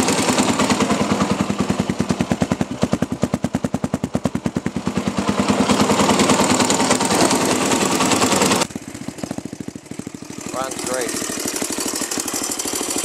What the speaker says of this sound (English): I don't know what that noise in there is. It's gotta be the cam chain, I think.